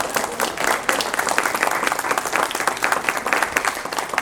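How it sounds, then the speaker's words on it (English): A crowded audience applauds warmly, with many hands clapping in a dense, lively wash that stays loud and steady throughout. "you can put applause right there"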